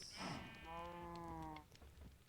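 A Minecraft cow gives a single drawn-out moo lasting about a second, fairly clear against a quiet game background with no talk.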